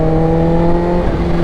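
A first-generation Kawasaki H2 supercharged motorcycle, an unrestricted pre-Euro-emission version, revs with a steady loud engine tone and strong harmonics. The sound is close and sustained, with no talk over it.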